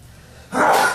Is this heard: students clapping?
no